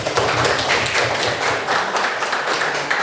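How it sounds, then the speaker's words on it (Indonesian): A class claps in dense, steady applause that stays loud and close for the full three seconds, with no speech over it. "tepuk tangan untuk Pelayo"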